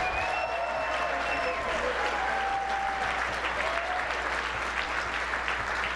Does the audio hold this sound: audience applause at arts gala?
yes